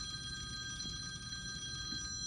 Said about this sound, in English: We're going to answer the phone